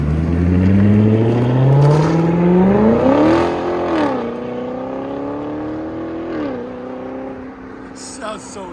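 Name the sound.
2015 Chevy Corvette 6.2L V8 with straight pipe driving off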